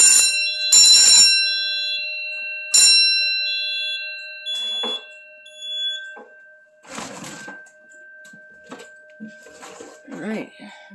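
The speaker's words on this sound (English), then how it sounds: "Make sure all of our alarms are active." EST Quickstart fire alarm bell rings in short loud bursts during a system test, with long steady alarm tones running underneath and a person talking in between.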